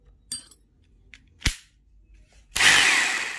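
A 2250-watt rotary hammer drill in punching mode: a few sharp isolated clicks and knocks, then a loud sustained burst of hammering noise starting near the end and continuing to the close.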